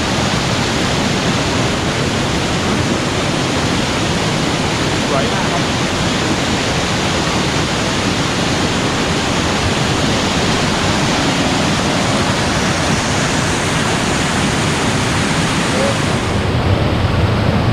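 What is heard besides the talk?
strong waterfall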